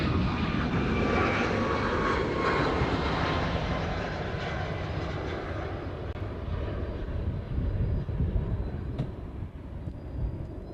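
Jet airliner landing on runway 8 Left at Honolulu airport, a loud sustained engine roar with whining tones that slowly fades as the plane passes, heard outdoors with no voice over it.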